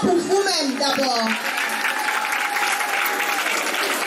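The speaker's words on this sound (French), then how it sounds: "Des applaudissements pour vous-même d'abord." An audience applauds itself during a French-language broadcast, steady dense clapping over the full stretch, with a voice speaking over the opening second.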